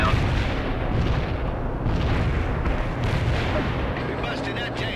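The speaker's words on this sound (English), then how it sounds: "mortar strike inbound" Mortar strike explosions in the World in Conflict strategy game rumble on as a continuous barrage of dense, overlapping booms with a steady battlefield roar and no pause.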